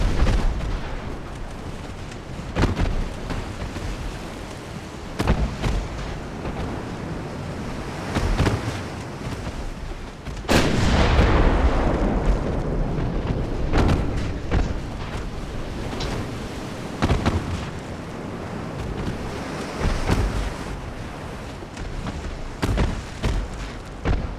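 Warship guns fire in a naval strategy game set in the 1900s with Japan fighting an invasion force. Repeated sharp booms land every few seconds, with one heavier blast, over a steady wash of sea and wind.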